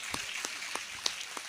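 A few sparse, faint claps from the audience at a Hindi patriotic poetry recital, spaced about a third of a second apart.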